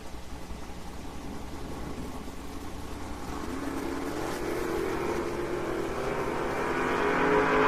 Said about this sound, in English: Sly dials the Mustang, 948. Ryan drives the pickup to a 10:08